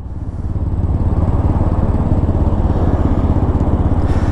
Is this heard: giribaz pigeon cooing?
no